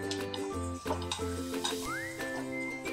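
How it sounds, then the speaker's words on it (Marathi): Flaxseeds dry-roast in a kadhai over a low flame, giving a steady close crackle and sizzle with soft clinks. A constant tonal drone runs underneath. "भाजायला सुरुवात झाली की हे तडतड आवाज येतो."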